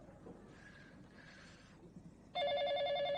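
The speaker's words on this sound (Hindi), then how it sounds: "उठाओ ना, कब से घंटी बज रही है।" A telephone bell rings loudly and steadily in a continuous electronic trill indoors, beginning abruptly after a stretch of quiet room tone.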